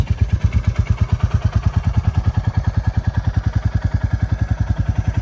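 Royal Enfield Classic 350 single-cylinder motorcycle, a 2022 model, running steadily just after starting, its loud, even thump-thump exhaust pulses repeating rapidly and close by with no talk.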